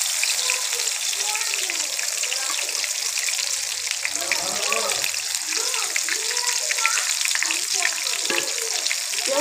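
Thick-cut eggplant slices frying in a small amount of oil in a pan: a steady, even, crackling sizzle that runs close and unbroken throughout, with a faint voice somewhere in the background.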